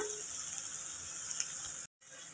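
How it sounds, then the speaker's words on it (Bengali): Onion and ginger-garlic paste fry in oil with bay leaves, giving a faint, steady sizzle and hiss that cuts out briefly near the end before resuming. "তেলের মধ্যে তেজপাতা দিয়ে পেঁয়াজটা ভালো করে ভেজে তার মধ্যে আদা রসুনের পেস্ট দিয়ে কষছি।"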